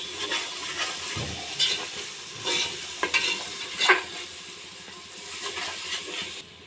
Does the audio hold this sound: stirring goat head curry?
yes